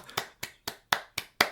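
Six sharp hand claps in a slow, even rhythm, close and fairly quiet, with no talking, marking a celebration of a modern art book's publication.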